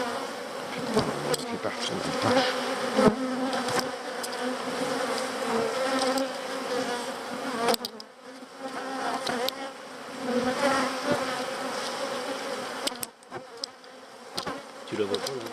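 Honey bees buzz loudly and steadily at an opened hive, a dense close droning swarm that continues throughout, with brief quieter moments and a few short spoken words over it.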